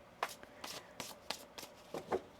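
Tarot cards being shuffled by hand in a series of quick riffling bursts, about eight soft flicks spaced irregularly, close and fairly quiet with no talk.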